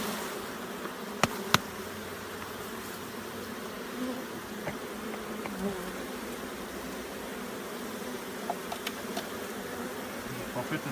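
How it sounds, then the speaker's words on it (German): Young honey bees buzz steadily across hatching brood comb, a continuous close hum that fills the whole stretch with a few brief ticks and knocks. "da sind sie schon geschlüpft, alles junge Bienen"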